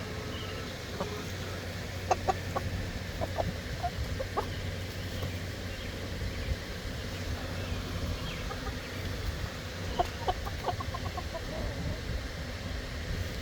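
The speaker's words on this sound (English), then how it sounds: "So we got some roosters. You see 5 of them right here." Roosters on a homestead cluck and call in short bursts against a steady outdoor background, moderately near, with a few sharper calls standing out.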